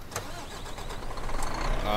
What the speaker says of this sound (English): So let's go ahead and get this truck started up.